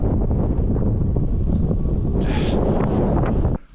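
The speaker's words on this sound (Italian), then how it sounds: "Tira forte il vento, andiamo giù." Strong wind buffets the microphone in a loud, steady roar that lasts the whole stretch, with a brief gusty surge midway, then cuts off abruptly near the end, heard during a mountain outing before the descent.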